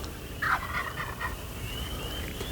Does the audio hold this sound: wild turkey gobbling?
yes